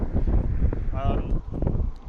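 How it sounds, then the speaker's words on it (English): Heavy wind buffeting a microphone in loud low rumbling gusts, with a brief tonal whistle partway through; outdoors and close. "I'm sorry, it's very windy."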